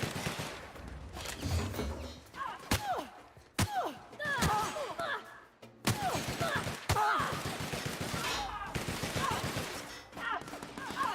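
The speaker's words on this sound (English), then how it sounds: "Ooh, gun." Gunfire from The Outer Worlds video game, with several sharp shots cracking out between bursts of clattering combat noise, under chatter and vocal sounds from characters.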